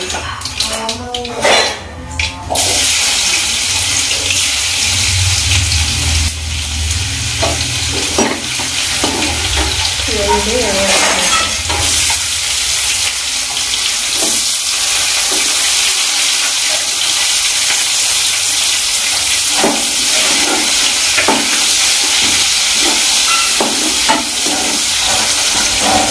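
Eggplant and garlic fry loudly in a pan, a steady sizzling hiss broken by repeated spoon scrapes and stirring clatter, with a voice talking now and then over the cooking.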